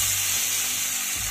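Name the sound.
tengra fish frying and sizzling in oil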